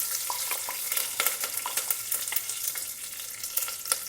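Cumin seeds, a dry red chilli, curry leaves and hing sizzle in hot oil for a South Indian sambar rice tempering, a steady crackling hiss dotted with sharp pops and spoon-stirring scrapes, close and fairly loud with no talking.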